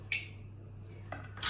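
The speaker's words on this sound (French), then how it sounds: "insérer le couvercle et le gobelet doseur" A plastic Thermomix lid and measuring cup are fitted onto a mixing bowl while baking madeleines: a couple of brief light clicks and clacks, close and fairly quiet over a steady low hum.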